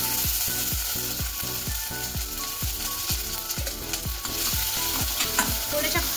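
Chopped vegetables fry in hot oil for a Veg Manchurian gravy, a close, steady sizzle broken by a quick run of regular rhythmic scraping or clicking strokes from a utensil stirring the pan, with nobody speaking.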